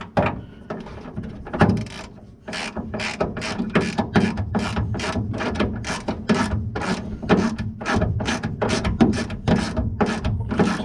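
A ratchet tightens a bolt with its own flat washer during laundromat machine roller-bearing work. Rapid, close, loud clicking strokes follow one another in a steady back-and-forth rhythm, with no voices.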